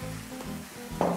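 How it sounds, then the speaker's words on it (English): Chicken pieces for sesame chicken frying gently in a pan, a soft steady sizzle with a brief louder burst of spattering near the end, as if the pieces are stirred. "And then we're just going to fry that gently."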